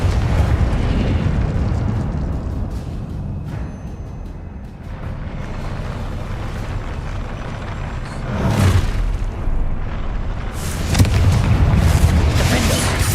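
Confringo explosion spell bursts in the video game Hogwarts Legacy, a series of deep booming blasts amid rumbling combat noise, with louder blasts near the middle and end and no talking.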